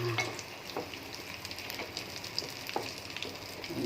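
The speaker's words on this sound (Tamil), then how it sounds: "இப்போ ஊற்றையில வத்தல் கருவேப்பிலையில் போட்டு பொரிக்கிறேன்." Steady crackling and spitting of dried chillies and curry leaves frying in hot oil, with occasional louder pops and light stirring sounds, close by and without voices.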